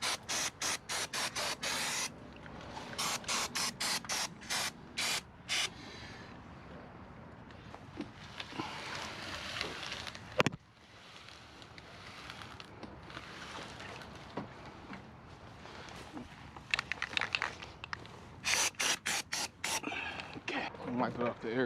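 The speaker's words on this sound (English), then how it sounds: "First up, you got your chain cleaner." Chain cleaner sprays onto a motorcycle chain on a Kawasaki Z650 outdoors on grass, in repeated short hissing bursts near the start and end with a longer soft spray in between, fairly quiet.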